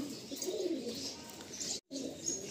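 Giribaj pigeons in a loft give soft, low repeated coos over a faint background of rustling and chirps, with a brief dropout partway through.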